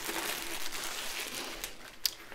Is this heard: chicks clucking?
no